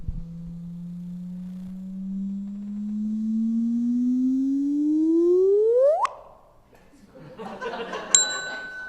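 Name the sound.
sonified gravitational wave signal of two neutron stars merging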